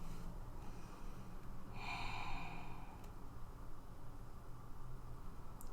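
A person exhales audibly through the nose during a yoga forward fold in a quiet room, one soft breathy rush in the middle, faint and close.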